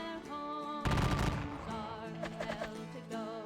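A musket volley in a Battle of Gettysburg wargame erupts as one sharp, loud crash, followed by a scattered crackle of shots over steady background music.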